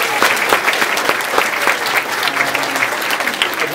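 Audience applause for two teachers at a school event: a dense, steady round of clapping from a large crowd, loud and close, holding evenly for the whole stretch with no pauses.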